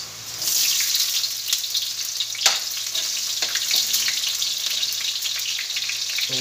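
Chopped onions sizzle and crackle in a hot pan for squid adobo, a steady bright frying hiss with a few sharp pops and clinks of stirring, close and continuous with no talk.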